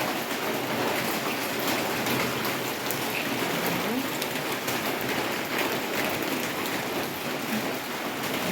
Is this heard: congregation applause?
no